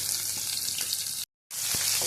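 Tempering of onions, garlic, mustard seeds, cumin and dried red chillies frying in hot oil on medium flame: a bright steady sizzle, broken by a brief silent gap, then resuming with a stirring knock.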